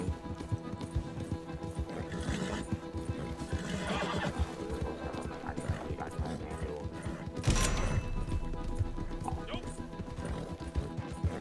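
A horse in the video game Red Dead Redemption 2 whinnies loudly amid a dense game soundscape with hooves clopping, a sharp crash-like burst partway through, and steady noise throughout.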